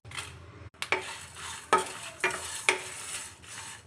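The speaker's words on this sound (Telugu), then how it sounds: "మంటని మీడియం ఫ్లేమ్లో పెట్టుకొని వీటన్నిటిని చక్కగా వేయించుకోవాలండి." Cashews, chana dal, cumin and dried red chillies frying in a pan over a medium flame for a stuffed brinjal curry, with a steady sizzle and a few sharp spoon scrapes and stirs against the pan.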